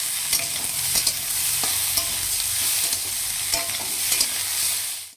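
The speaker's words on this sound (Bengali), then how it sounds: "সমস্ত মশলাগুলো সুন্দরভাবে একসঙ্গে ভেজে নিচ্ছি।" Spices, onion and tomato stir-fried together in a pan for a chicken curry give a steady close sizzle, broken by frequent scraping stirs of the spoon throughout, with no talking.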